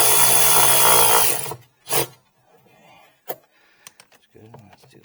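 Milwaukee power tool driving bolts on a Jeep Liberty AC compressor: a loud sustained whir that cuts off, followed by a short burst and scattered clicks and tool handling noises nearby.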